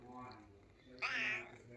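A house cat gives a single short, fairly close meow that rises sharply near the end, after a stretch of quiet indoor room sound with faint murmuring.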